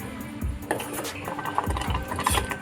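A spoon stirs fig halwa with sugar in a pan over a low flame, making steady scraping and clinking strokes against the metal, close and moderately loud, with no voices.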